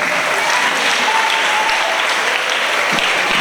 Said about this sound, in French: des applaudissements pour vos encadreurs